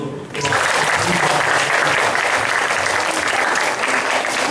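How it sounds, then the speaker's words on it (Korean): A church congregation bursts into loud applause after a short quiet moment, then keeps clapping densely and evenly to the end. "이 교회를 위해서 우리 한번 박수."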